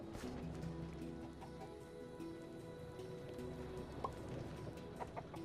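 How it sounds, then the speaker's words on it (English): A chicken clucks in the video game Minecraft, with short repeated clucks and small clip-clop-like steps over a steady layer of game background music, moderately quiet and continuous. "You can forever chase that chicken."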